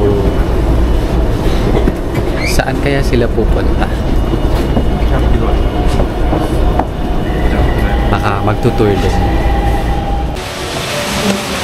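A Taipei MRT metro train in motion, a loud continuous rumble of rails with clicking joints and brief high squeals, heard from inside the carriage while a person talks over it, ending as the train slows.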